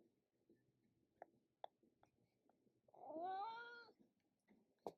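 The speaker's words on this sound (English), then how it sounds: "He's a very chatty cat." A cat lets out one drawn-out, rising-and-falling meow in a quiet room, preceded by faint small clicks and followed by a soft tap.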